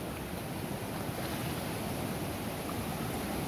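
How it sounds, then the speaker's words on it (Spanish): Flooded Rosario River rushing in spate, a dense, steady roar of turbulent water, loud and unbroken throughout with no voices. "Mire que se mete el agua hasta allá donde Fernando"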